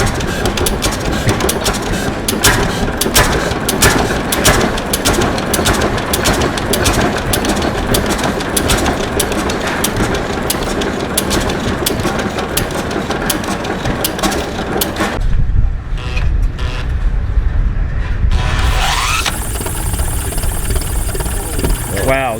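A vintage stationary engine starts and runs at the Coolspring engine show, loud and close with rapid, even firing pulses that shift to a quieter tone near the end, with people talking nearby.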